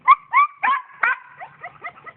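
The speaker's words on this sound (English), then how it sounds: "She's just whining because she sees me." A dog whines in a series of high, nasal yelps, starting loud then trailing off into softer, quicker whimpers.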